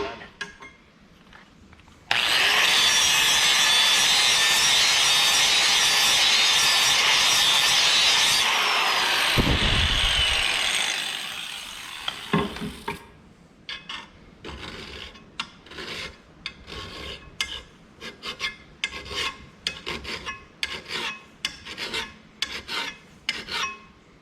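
A zero turn lawn mower blade being sharpened on a grinder: a loud, steady rasping grind runs for about ten seconds and then stops, followed by a string of sharp scraping file strokes in an uneven rhythm, with no talk.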